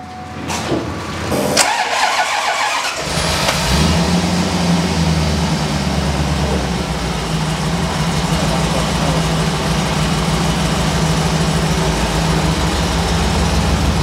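A C4 Corvette ZR1 with a suspected ECM or O2 sensor fault cranks over and starts, then settles into a steady, loud, rough-running idle that holds for over ten seconds with no talking.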